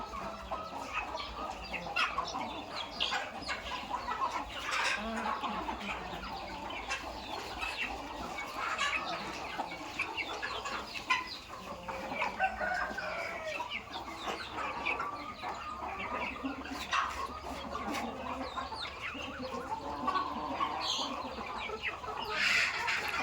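Farm chickens clucking and murmuring while they eat feed mixed with red meat, a busy, fairly quiet flock chatter with occasional louder calls and a brief flutter of wings.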